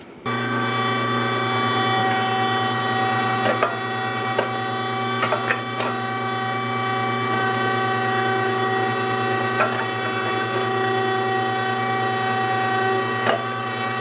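A meat grinder running while grinding meat and fat for sausages, a steady close mechanical whine with strong tonal hum, punctuated by occasional clicks and knocks from the mechanism.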